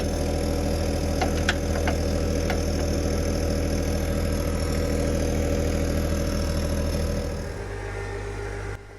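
John Deere 1025r compact tractor engine running steadily while shifting its backhoe in winter, a loud, continuous low rumble close by that drops slightly in pitch near the end.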